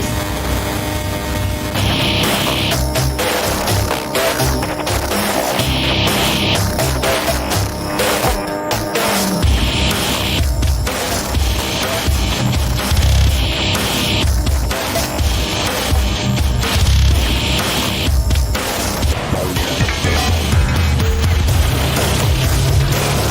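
Loud electronic Reason track layered with heavy metal guitars, a thick wall of distorted noise with pounding low-end hits and recurring bright bursts, sustained at full intensity across the whole stretch without any talking.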